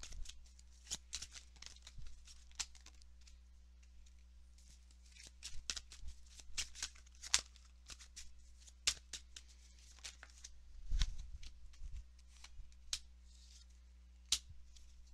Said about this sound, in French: Je vais sortir toutes vos cartes.